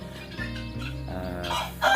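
Chicks and a mother hen clucking and peeping close by on a Thai chick-rearing setup, with steady soft calls and a louder burst at the end.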